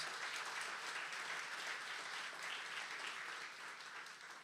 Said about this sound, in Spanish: Vamos a darle un aplauso a Jesús por lo que Él hace en nosotros.